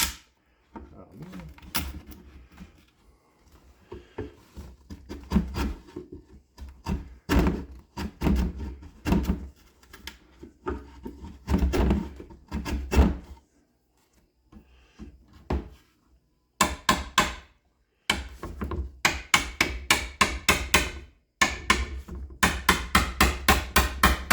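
A hammer drives a chisel through wood along a curved radius, landing a long series of sharp, close blows in uneven bursts with short pauses, becoming faster and steadier toward the end.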